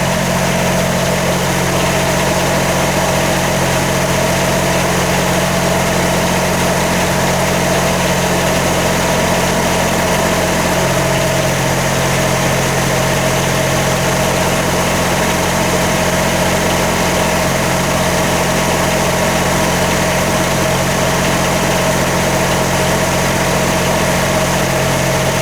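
Air-cooled generator engine running at a steady idle, loud and close, with a constant hum and vibration that holds unchanged throughout, no voices.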